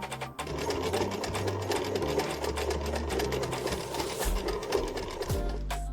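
A sewing machine stitches along trouser legs with a steady, continuous mechanical whirr and rapid needle clatter, loud and close, running almost without a break.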